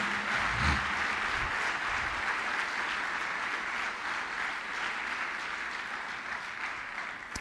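Church congregation applauding during a sermon, a steady wash of many hands clapping that holds evenly throughout at a moderate, somewhat distant level.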